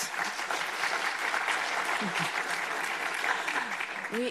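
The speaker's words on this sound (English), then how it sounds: "so you don't need to clap every time" An audience applauds to welcome a dean to an event, a steady patter of many hands clapping at moderate level with a few faint voices underneath.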